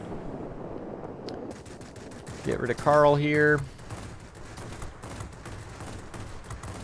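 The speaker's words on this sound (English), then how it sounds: "23s will do some damage, don't get me wrong, but it's the 37mm cannon" Aircraft cannon fire in World of Warplanes, 37mm and 23mm guns on a JL-1A-37, a short rapid burst of loud shots about one second long over steady engine drone, with someone speaking briefly.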